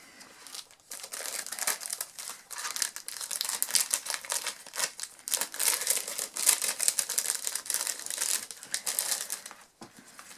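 A card envelope or package is torn open by hand, a continuous close crinkling and ripping of paper that rises and falls in short bursts and stops briefly near the end.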